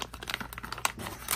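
Close, crisp crinkling of a small plastic bag holding a flat Glock trigger shoe, with a series of quick rustles and crackles handled near the microphone.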